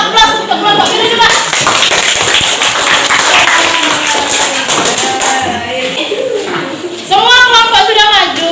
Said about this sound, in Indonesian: Oke, kita kasih aplaus untuk kelompok biru juga.